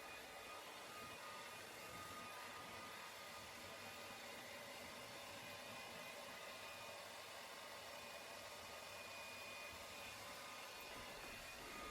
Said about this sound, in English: get the hairdryer back on this, but this time on the inside